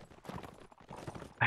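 Cavalry horse hooves gallop in a video game battle, a quick run of rhythmic clip-clop beats over about a second and a half, ending in a sharp louder hit.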